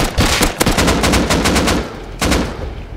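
Rapid automatic gunfire in the survival game Rust, loud, close bursts of evenly spaced shots that run for about two seconds, pause briefly and then resume, with no voices.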